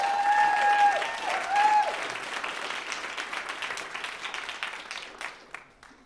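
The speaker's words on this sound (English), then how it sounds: "Can you guys give them a big round of applause?" An audience bursts into applause at a church service, loud clapping that fills the room and then fades out over several seconds, with a brief whistle at the start.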